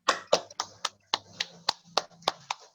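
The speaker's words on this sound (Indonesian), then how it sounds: "Tepuk tangan dulu untuk Pio dan Eja." Classroom applause for two students: a short burst of sharp, fairly close hand claps in a loose, uneven rhythm, about ten distinct claps.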